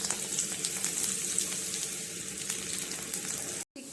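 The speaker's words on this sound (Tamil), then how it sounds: "ஹீட் ஆனதும் ஆயில் போட்டு ஹீட் ஆனதும் இந்த உடச்சி வச்சுருக்க சிகப்பு மிளகாவை போட்டுக்கலாம்." Broken red chillies frying in hot oil, a steady close sizzle and crackle running for several seconds before cutting out abruptly near the end.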